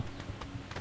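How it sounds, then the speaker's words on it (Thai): An enemy bot's footsteps in the mobile shooter PUBG New State: a quick run of soft, evenly spaced steps over a muffled game background. "เออเสียงเดินบอดเหรอเดินอย่างเงี้ย"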